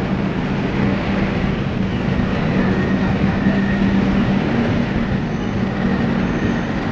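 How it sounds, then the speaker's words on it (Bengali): A train rolls past below an elevated station platform at Joychandi Pahar, producing a steady, broad rumble of wheels and cars at moderate distance with a faint faraway tone, with no pauses. "নিচে ট্রেন যাচ্ছে আর এদিকে আমাদের"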